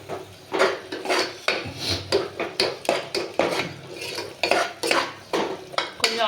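Garam masala mixture stirred in a cooking pot, a spoon scraping and clinking against the metal in quick, uneven strokes, close and fairly loud, with no talking.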